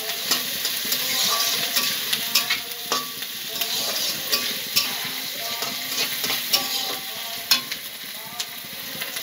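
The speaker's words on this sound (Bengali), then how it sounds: "লঙ্কা কুচি, এগুলো ভালো করে লাল লাল করে ভেজে নেব।" Chopped chillies and tomatoes sizzle and fry steadily in a pan for an egg roll filling, with a constant crackling hiss and frequent scrapes and clinks of a stirring spoon throughout.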